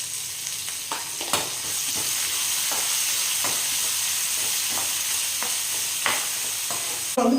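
Chopped onion frying in a pan with cumin and curry leaves for a Tamil prawn gravy, a close, continuous sizzle broken by repeated soft scrapes and clicks of a spoon stirring, with no voices.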